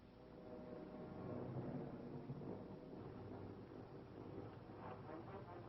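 A heavy storm at sea after a wartime beach landing, with ships being battered: a continuous deep rumble of thunder and wind-driven rain that swells in the first two seconds, then rolls on steadily and loud, with no voices.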